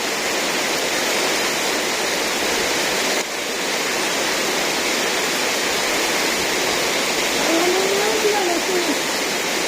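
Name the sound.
heavy rain during a storm in a village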